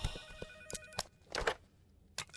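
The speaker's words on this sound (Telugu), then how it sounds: "ఏంటి బాస్ ఫోన్ ఎట్లా రింగ్ ఆగట్లేదు?" A telephone bell rings in a room, with several short bright bursts in an uneven rhythm and gaps of quiet between them, moderately loud and without talk.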